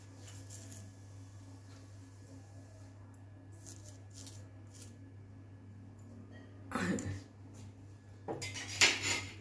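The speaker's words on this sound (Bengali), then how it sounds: "ঢাকনাটা বন্ধ করে দেব" At home a lid is set onto a pan of vegetable fried rice, and it lands in two sharp metallic clatters near the end, after a quiet stretch with faint utensil clinks and a steady low hum.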